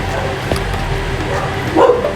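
A dog barks in Minecraft, a single short bark near the start, then a brighter yip toward the end over continuous game noise.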